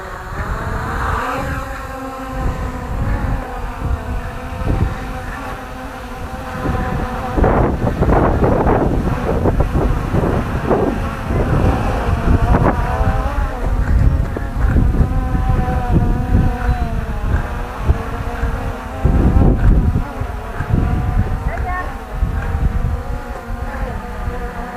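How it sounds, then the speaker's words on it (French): Strong gusts buffet the microphone of a small MJX Bugs 5W quadcopter as it flies outdoors in light wind, a loud rumbling roar that lasts throughout, with a steady high motor whine running beneath it. "comme il y a un petit peu de vent, c'est pas évident"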